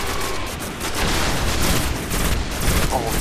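Dense, continuous gunfire from the video game Destiny, loud rapid shots blending into a constant roar with a voice faintly mixed in.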